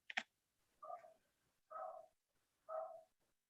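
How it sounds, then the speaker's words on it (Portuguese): A dog barks three times in the background during an online meeting, faint, evenly spaced single barks after a brief click at the start, with no talk. "tem alguém com o microfone ligado e tem um cachorro latindo."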